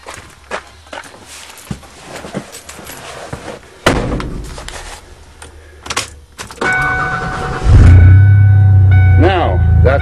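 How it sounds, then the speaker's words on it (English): An ex-rollercoaster van on a farm, driven unladen, with an engine rumble that grows louder and steadier toward the end after thumps and clatter, like doors and footsteps, near the start. "Been a long time since I drove this unladen."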